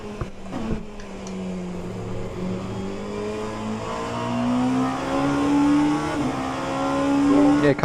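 An Oreca LMP2 racing car engine in the rFactor 2 racing game at Le Mans revs and climbs through gears, its rising whine loud and steady, with a brief tire squeal early on.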